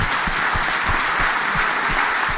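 Applause from a conference audience for the panelists of a first panel session, dense and sustained clapping throughout at an even, fairly loud level.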